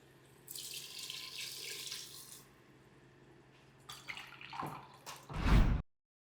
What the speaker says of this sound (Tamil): அதனால நம்ம 3 டம்ளர் தண்ணி ஊற்றுறோம்